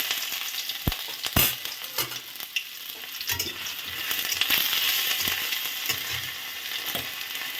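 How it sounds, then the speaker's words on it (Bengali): Dried chillies, bay leaf and ginger hit hot oil and crackle and sputter loudly, with sharp pops near the start and then a steady close sizzle broken by stirring scrapes. "তেল গরম হয়ে গেছে, দিয়ে দেবো শুকনো লঙ্কা, দিয়ে দেবো তেজপাতা, দিয়ে দেবো আদা"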